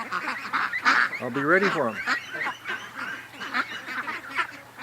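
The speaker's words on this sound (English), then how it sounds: "Come on, ducks, go inside while I'm out here." Farmyard ducks give loud, repeated honking quacks in quick bursts near the listener, overlapping one another, while someone speaks briefly between the calls.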